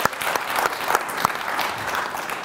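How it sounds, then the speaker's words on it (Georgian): Studio audience applause on a Georgian comedy TV show, steady clapping from a full room that keeps up loud and continuous throughout with a faint murmur under it. "კიდევ ერთი აპლოდისმენტები"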